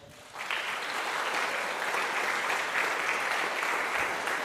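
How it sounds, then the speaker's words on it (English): An audience applauds donors at a klezmer concert, the clapping starting abruptly after a brief quiet moment and holding as a steady, dense wash of many hands. "Please give a round of applause"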